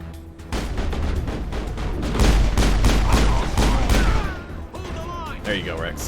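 Mass Effect combat with rapid bursts of weapon fire, dense overlapping shots rising to a loud sustained volley before tapering off, with a voice briefly under the shooting near the end.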